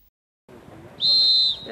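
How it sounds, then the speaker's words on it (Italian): A referee's whistle starts a football match, a single sharp blast of about half a second cutting in over faint crowd murmur. "Il fischio d'inizio del signor Marin di Mestre dà avvio all'ultima giornata di calcio giocato di questo 2011"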